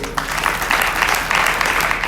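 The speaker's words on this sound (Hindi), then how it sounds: "बजाओ जोर से तालियां" Audience applause at a Shiv Mahapuran religious discourse, a broad steady patter of many hands clapping at a fairly even level for about two seconds with no speech over it.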